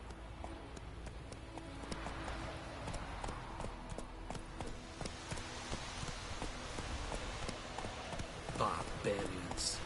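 Roach, the horse in Witcher 3, trots along with steady clip-clopping hooves at moderate distance, the rhythmic steps running throughout under low game ambience.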